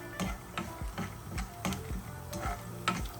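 Dry fruits are lightly roasted in a pan for an oats recipe, with a spoon making regular ticking scrapes against the metal over a faint sizzle, close up and without talk.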